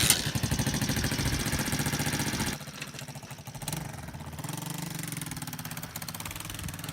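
A rebuilt motorcycle engine, just kick-started, runs steadily with a fast even idle pulse. It drops to a lower, softer beat partway through, then settles into a smooth idle again.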